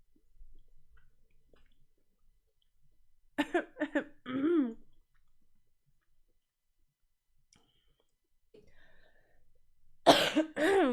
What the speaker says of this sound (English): man, I cough so much all night.